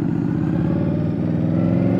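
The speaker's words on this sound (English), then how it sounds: "we put on the Bassani slip-on exhaust, which sounds really cool." An Indian Scout Bobber Twenty motorcycle fitted with a Bassani slip-on exhaust rumbles steadily and loudly up close, its deep, even engine note holding throughout.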